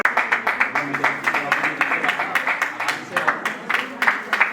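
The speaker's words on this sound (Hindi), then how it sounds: "जोरदार तालियों से उनका स्वागत" Audience at a Jain temple entrance ceremony applauding to welcome guests, a quick burst of many hands clapping in uneven rhythm, fairly loud and close, continuing for several seconds.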